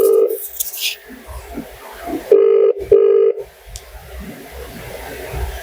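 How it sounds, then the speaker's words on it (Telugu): An outgoing telephone call gives a steady ringback tone, with two clear, evenly spaced rings near the middle after a short tone at the start. Soft speech and whispering run through the background. "ఒకసారి ఆమెకి ఫోన్ కాల్ చేద్దాం."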